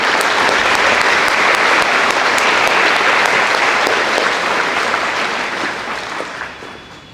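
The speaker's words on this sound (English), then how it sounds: "Please join me in a round of applause and congratulations for all of these young ladies." Loud, sustained applause from a large audience at a high school academic awards banquet, thick continuous clapping that gradually fades out over the final seconds.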